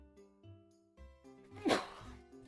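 One sharp sneeze bursts out near the middle, loud and brief, over a soft steady musical background.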